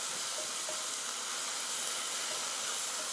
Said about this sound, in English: Now I'm going in with 4 tablespoons of butter.